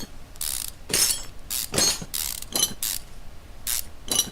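A ratchet undoing a bolt in Car Mechanic Simulator 2015, a run of close, loud, clicking ratchet bursts in irregular rhythm, about a dozen strokes, with no talking.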